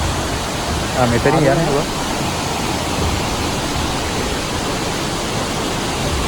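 A stream of water flows down through Palmada forest in a constant broadband rush, with someone briefly speaking over it early on.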